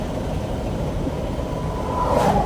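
A 2007 Mercedes S-Class accelerates, heard from inside as a steady low engine and road rumble that swells slightly louder toward the end.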